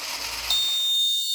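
The alarm of a smart vehicle accident detection system, triggered by a simulated crash, sounds a sudden, continuous high-pitched electronic beep, loud and close, with faint mechanical whirring just before it.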